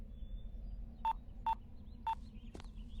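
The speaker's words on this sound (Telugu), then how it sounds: "ఇదిగో ఫోన్ చేయరా." Three short, evenly spaced telephone keypad tones beep at moderate volume over a low background hum, followed by a brief electronic chirp.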